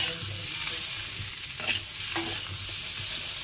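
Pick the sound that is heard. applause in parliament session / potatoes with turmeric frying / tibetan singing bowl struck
potatoes with turmeric frying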